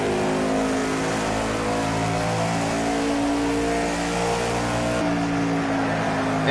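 Stock car engine droning steadily on a cool-down lap in the racing game Project Cars 2, a loud continuous mid-pitched roar with a slight gear shift partway through, no voices.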